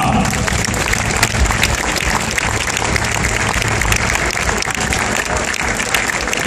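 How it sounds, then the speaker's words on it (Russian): Sustained applause from a tournament crowd cheering fighters at a White Rex Pro combat-sports event, dense and steady throughout with no break. "еще раз ваши аплодисменты бойцам!"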